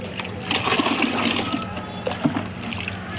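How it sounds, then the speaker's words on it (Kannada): Water mixed with Sunrise fertiliser, about five litres, is poured onto flowering garden plants. A close, continuous splashing trickle runs throughout with small uneven gushes. "ಈ ಸನ್ರೈಸ್ ಮಿಕ್ಸ್ ಮಾಡ್ಕೊಂಡಿರೋ ನೀರು ಈ ಥರ ಗಿಡಕ್ಕೆ ಹಾಕಬೇಕು"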